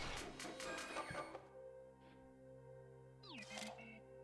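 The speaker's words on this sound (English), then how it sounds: "Fresh out of the printer." A printer in the game Inscryption prints out a card, a busy mechanical whirring and clatter followed by a steady hum with a few short chirping, sliding tones, quiet and with no talk.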